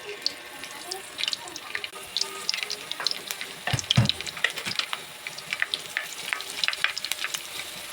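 Mitra cooking oil heating in a pan for chicken adobo, giving a light crackling sizzle with scattered pops and spits and a brief louder clatter midway.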